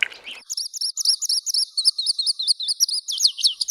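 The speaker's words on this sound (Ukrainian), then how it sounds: "Заспівав у небі жайворон." A skylark sings high in the spring sky, pouring out a rapid, continuous stream of bright chirps and trills, loud and close with no other sounds around it.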